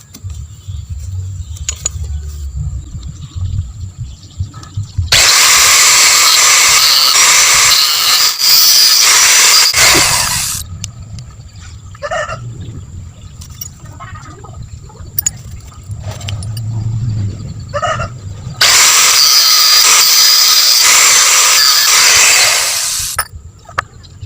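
A metal silhouette target for accuracy shooting being cut into four pieces; two long, harsh, loud bursts of cutting of about five seconds each, separated by quieter clinks and handling noise.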